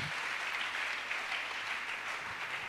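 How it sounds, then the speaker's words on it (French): A church congregation applauding in praise of the Lord, sustained even clapping from many hands filling the room, steady and moderately loud without pause. "Est-ce qu'on peut acclamer le Seigneur?"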